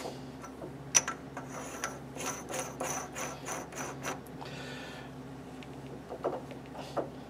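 A shop-made nut is threaded by hand onto a Logan lathe collet closer, producing a series of light, close metallic clicks and ticks at an uneven ratchet-like pace.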